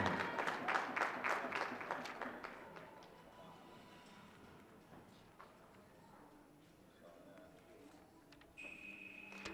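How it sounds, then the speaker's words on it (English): Applause from the audience for two competitors at the Super Grands 2017 grand finale, a burst of clapping strongest at the start that fades into quieter crowd noise and scattered taps. "let's give a big round of applause for both of these competitors here this evening"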